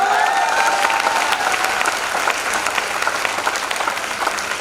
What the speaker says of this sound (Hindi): इन सब लोगों के लिए मैं चाहूंगा कि जोरदार तालियां होना चाहिए।